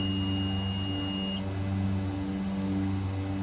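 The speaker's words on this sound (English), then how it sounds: "What's all that beeping about?" A steady electronic beeping tone from the cockpit of a DHC-6 Twin Otter in Microsoft Flight Simulator over Panama City, sounding over a constant low engine hum.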